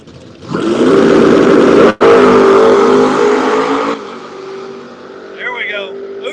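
Drag-strip street cars, including a Camaro, roar down the track in a loud, sustained full-throttle engine blast for a few seconds, then cut off and fade, with people talking afterward.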